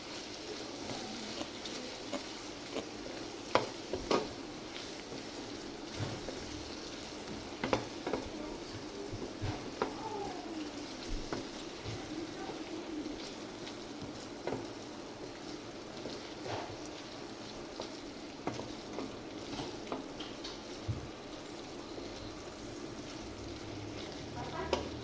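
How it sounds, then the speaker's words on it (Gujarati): A spoon stirs cream into a Punjabi vegetable gravy in a pan, with soft scraping and gentle sizzling continuing steadily for about 25 seconds, punctuated by occasional louder clinks. "તો આપણે એમને મિક્સ કરી દઈશું."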